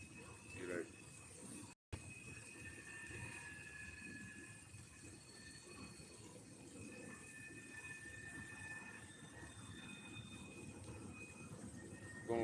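A train rolls past with a continuous low rumble of wheels on rails and thin squealing tones drifting in and out, heard outdoors at a park from a moderate distance, with a brief dropout early on.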